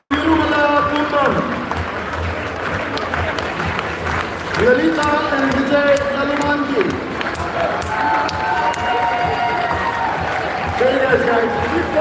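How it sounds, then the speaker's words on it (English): An audience at a live award announcement claps steadily throughout, with a dense continuous patter, while a presenter talks over it and reads out names. "Very nice, guys. Keep clapping,"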